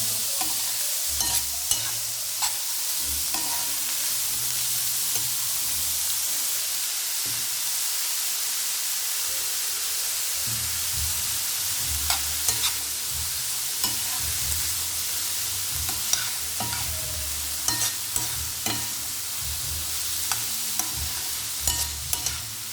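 Onions fry in a pan with salt, giving a continuous hissing sizzle punctuated by scattered sharp crackles and occasional stirring scrapes, with no voices.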